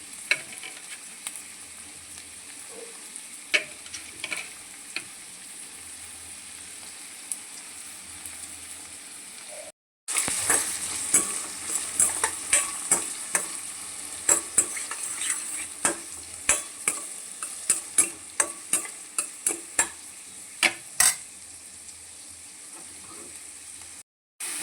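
Chopped onions frying in hot oil in a kadai for a tomato boiled-egg curry, a steady sizzle with repeated scraping and stirring clicks that grow louder and busier after a short break midway, with no talking.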